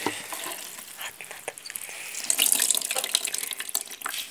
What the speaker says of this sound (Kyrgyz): Сыгылат экен. Сууну солуп алат экен.